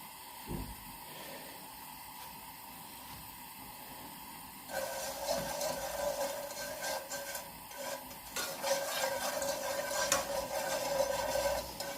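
Leftover pulled pork reheating in a new pan with a little olive oil, a steady hiss and crackle that swells louder partway through and keeps sizzling close by with no talking.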